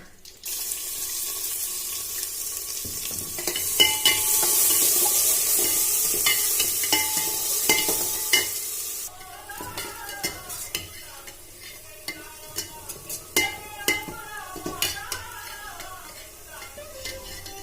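Garlic and onion tempering for turnip sabzi crackles in hot oil with a bright, hissing sizzle. After that, sharp spoon clinks and scrapes of stirring continue against a softer bubbling.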